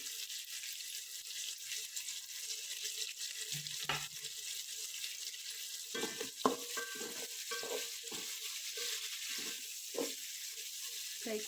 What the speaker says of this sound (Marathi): यामध्ये कांदा पण फ्राय करून घ्यायचा आहे कांद्याला चांगला चॉकलेटी कलर येईपर्यंत भाजून घ्यायचं आहे